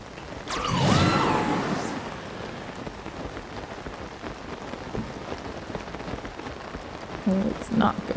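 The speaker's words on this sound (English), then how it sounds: "Oh, it's not good that it's raining right now." Steady rain falls in Zelda Tears of the Kingdom, a constant broadband hiss of drops that runs the whole time, with a voice speaking briefly near the start and again at the end.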